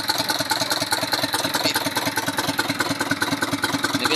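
An Isuzu Elf truck's 4HL1 diesel engine runs steadily just after an ECU replacement, a loud, close, evenly pulsing idle with a continuous clattering rumble.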